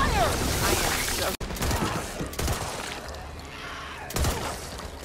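Gunfire rattles in bursts through a Back 4 Blood firefight, loud and close, with a sharp cut partway and a fresh volley near the end, with game voices calling out beneath the shots.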